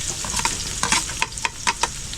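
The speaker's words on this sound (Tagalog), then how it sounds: "Yan ang gisa." Food sautés with a steady sizzle in a hot pan, and several sharp scraping stirs punctuate the frying at uneven intervals.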